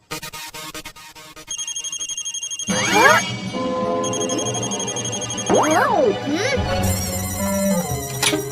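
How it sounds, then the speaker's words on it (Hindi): A phone rings with an electronic ringtone of repeated warbling chirps and sweeping melodic tones, loud and close, beginning after a quiet start and continuing through the clip. "मैं दादाजी के फोन पे कॉल करके उन्हें जगाता हूँ।"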